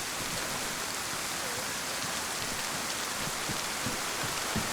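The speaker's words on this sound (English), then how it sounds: "they can't hear me over the rain" Steady rain falls in the video game DayZ, a dense even hiss with scattered drop patters throughout, loud and constant with no other sounds.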